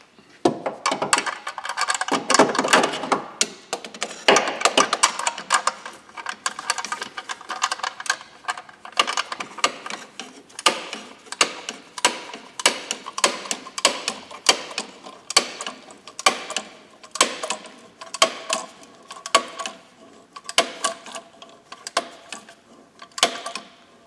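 A ratchet wrench tightening a cam belt tensioner bolt to torque, giving long runs of rapid, close clicking in quick bursts with short pauses, sharp and dry, continuing steadily throughout.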